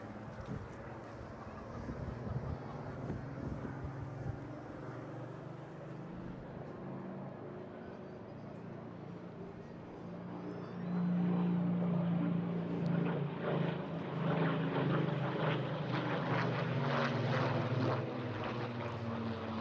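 A Supermarine Spitfire Mk 19 photo-reconnaissance fighter with a Griffon engine passes at an airshow, its engine drone building from a distant hum into a louder, rougher roar in the second half.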